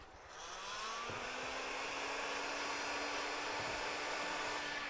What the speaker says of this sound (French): je vais venir faire un petit point de chauffe à cet endroit-là pour fixer mon film